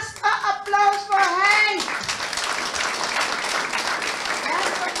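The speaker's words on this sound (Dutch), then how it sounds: "Daarnaast een applaus voor" Audience applause greets a commemorative book presentation. A voice sings or calls out sustained tones over scattered clapping at first, then a dense, steady round of applause carries on alone for the remaining three seconds.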